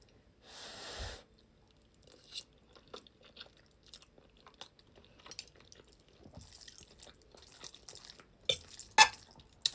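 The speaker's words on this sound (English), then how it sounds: "Let's eat an onion boil and some cheesy ramen." Someone eats an onion boil and cheesy ramen made with extra spicy Buldak noodles, producing close, intermittent wet chewing and biting sounds with a loud burst early on and sharper crunchy bites toward the end. No one speaks.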